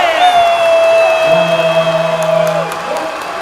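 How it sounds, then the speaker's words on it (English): A packed high school gym erupts after a dunk in a boys' basketball Final Four game, Salem against Lynn Classical, a loud sustained roar with high yells and whoops that eases slightly toward the end. "This crowd's going crazy."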